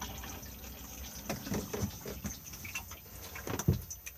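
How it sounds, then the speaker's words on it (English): A Thetford cassette toilet in a 2020/21 Auto-Sleeper Symbol motorhome flushes, giving a few short watery rushes and trickles close by over a quiet hum, with small clicks and knocks. "Push the flush on the top."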